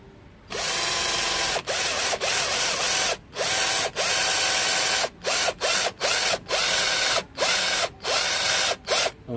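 Carbon impact drill with a 10mm bit boring into wood, a loud buzzing whine in repeated bursts of roughly half a second to two seconds, separated by short pauses as the trigger is released and pressed again.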